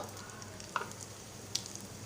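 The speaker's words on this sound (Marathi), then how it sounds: "तेल गरम झालेलं आहे आता आपण हिंग घालणार आहोत मोहरी जिरं" Asafoetida, mustard seeds and cumin hit hot oil with a faint, steady sizzle, broken by two small sharp pops.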